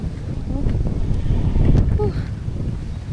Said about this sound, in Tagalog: ito kasi nga sobrang lakas ng hangin